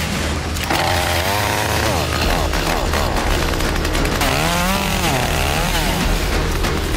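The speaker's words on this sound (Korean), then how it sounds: "전기톱을 꺼내듭니다" A chainsaw clears brush and scrub trees in rough terrain, running loud and close with repeated revs rising and falling in pitch against the engine's steady snarl.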